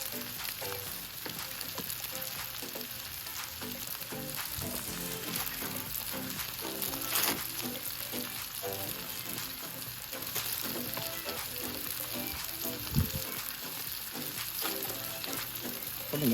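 Philly cheesesteak meat and vegetables sizzle and fry on a flat top grill, a steady close crackle running throughout with occasional scrape-like stirring clicks and one brief thump near the end.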